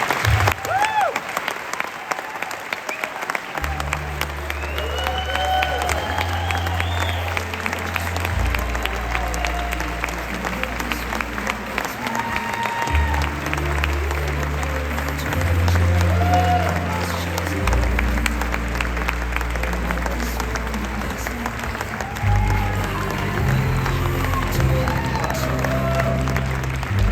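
An audience at a speaking event breaks into sustained, loud applause for a speaker, dense clapping with some cheering that continues throughout, with a few voices and music faintly underneath.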